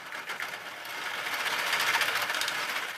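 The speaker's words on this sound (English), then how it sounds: "Now with this handle I'm turning, which is the input shaft, there's about a 27 gear ratio between this and the aluminum extrusion output." A hand-cranked pericyclic gearbox with about a 27:1 ratio spins fast, driving an aluminum extrusion output. It makes a steady, dense whirring buzz with a faint rapid pulsing that grows slightly louder over a few seconds.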